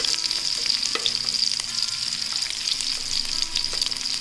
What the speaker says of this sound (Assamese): আৰু কেইটামান নহৰু মই ইয়াত এই গোটা গোটাকৈ দি দিম।